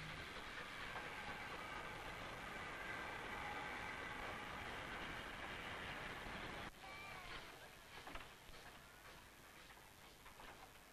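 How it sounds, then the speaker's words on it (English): A locomotive hauling a mixed train rumbles past a station with a broad, steady roar, then thins out into rattling and clanking wagons as it moves on. "locomotive number one passes Castle Station with a special mixed train"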